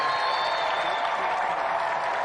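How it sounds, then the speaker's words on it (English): A TV studio audience at an arm-wrestling arcade game contest applauds steadily, a dense, even wash of clapping that holds at full loudness from start to finish without any voices over it. "Round of applause for Tony Dupre"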